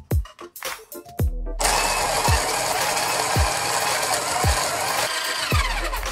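A Breville Smart Grinder Pro grinds coffee beans at grind setting 12, starting after a few short mechanical clicks and then running as a loud, steady whirring grind with rhythmic thumps, with no talk.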